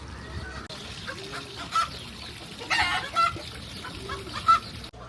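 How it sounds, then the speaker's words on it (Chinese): Birds in a zoo greenhouse enclosure holding ducks and peacocks give several short clucking calls spaced through the clip over a low background murmur. "还有各式各样的鸟。"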